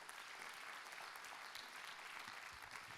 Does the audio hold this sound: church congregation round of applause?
yes